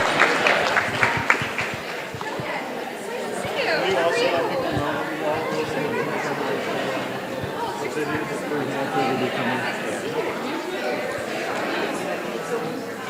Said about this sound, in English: So a round of applause for Hosea House.